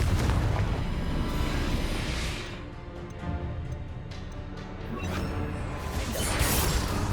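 Spell blasts in Hogwarts Legacy during a haunted house fight, a dense run of booming explosions and crashing impacts, loud and continuous with a brief lull midway.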